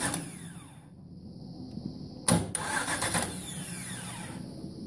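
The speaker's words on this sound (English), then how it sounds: "all you're trying to do is get this starter to crank over" A car starter motor cranks when a push button energizes the solenoid: a short, loud burst over a low background hum, followed by continued rough noise.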